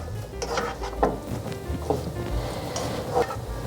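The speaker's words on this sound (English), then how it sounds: "I'm just gonna start mixing up" Cooked lobster and other seafood are stirred through melted butter in a pan, with soft scraping and light clinks of the utensil over a faint sizzle, close and fairly quiet.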